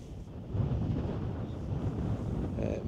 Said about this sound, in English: It's a bit of a windy night